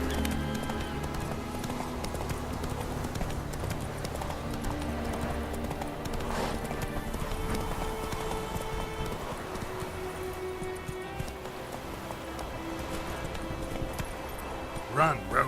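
Roach, Geralt's horse in The Witcher 3, gallops with a fast, steady clip-clop of hooves beneath game music and ambience, with voices speaking over it near the end.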